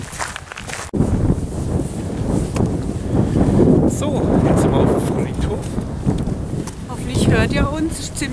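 Strong wind buffets the microphone at an outdoor demonstration in Freiburg in a continuous, rumbling roar, with gusts swelling and fading and a few faint voices underneath.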